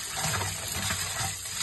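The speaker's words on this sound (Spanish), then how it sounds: "Vamos a poner agua" Water poured into a basement sump pit to test a newly installed Zoeller sump pump, a steady, fairly loud splashing and gushing stream with no talking.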